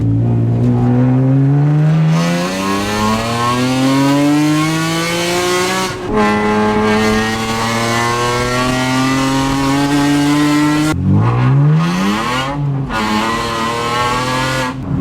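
A 2020 Toyota Supra engine revs hard while driving, loud and close. It climbs steadily through the gears, and the pitch drops sharply at each of several shifts.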